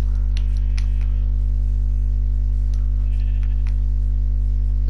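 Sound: sheep bleating in the video game Minecraft

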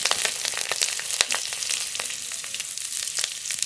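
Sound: whole spices and garlic sizzling in hot mustard oil

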